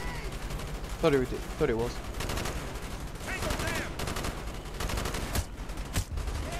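Gunfire bursts in Call of Duty: Black Ops during a Vietnam-set match, with several sharp shots scattered through a dense, noisy game mix while a player talks over it.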